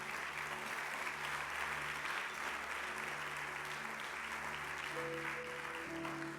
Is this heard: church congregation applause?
yes